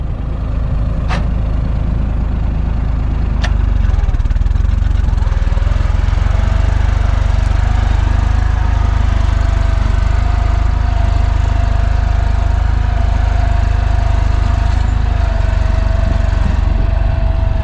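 An Erkunt 80.3 tractor creeps slowly forward, its diesel engine giving a steady, loud, low rumble that continues throughout with little change in pace.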